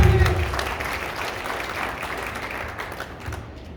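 A crowd applauds, steady dense clapping that starts strong and gradually tapers off over a few seconds.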